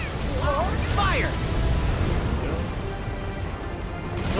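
Booming cannon blasts from Kingdom Hearts III's Caribbean level rumble under continuous excited talk, with bursts of low, crashing impacts throughout.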